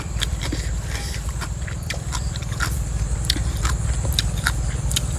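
Crispy rice crackers made with field crab are bitten and chewed close up, giving a steady run of crunchy bites over a low background hum, with no talking.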